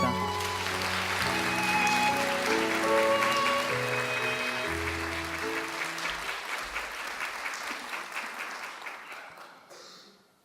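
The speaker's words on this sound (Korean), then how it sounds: "감사의 박수를 부탁드립니다." Applause of thanks for the board chairman at Hallym University's 35th anniversary ceremony: sustained crowd clapping under steady music, swelling, then slowly tapering and ending abruptly.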